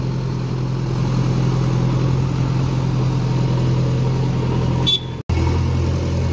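JCB tractor engine running steadily at a low, droning idle near a farm loading of organic compost, continuous and loud, with a brief sharp break near the end.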